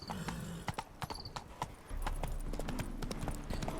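Horse hooves clip-clopping in the video game The Witcher 3, a brisk, steady run of sharp close hoofbeats, then a deeper rolling ambience underneath as the horse keeps moving.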